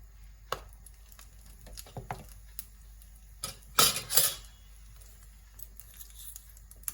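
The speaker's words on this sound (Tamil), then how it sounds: "கொஞ்சமாக கடுகு போடுறேன் கடுகு பொரியறர்" Mustard seeds splutter in hot sesame oil in a small tempering ladle, giving a few scattered sharp pops and crackles with a louder cluster near the middle over a quiet background.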